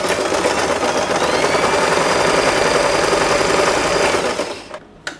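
A sewing machine stitches yellow and pink fabric pieces together for a multicolour scrunchie, running loud and steady with a fast, even needle rhythm before slowing and stopping near the end.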